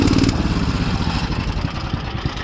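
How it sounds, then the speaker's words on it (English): A Craftsman GT18 lawn tractor engine with a 44-inch deck runs close by after the choke is eased off, a steady, rough, rattling idle with no voices over it. "We'll let that warm up and get the tractor going."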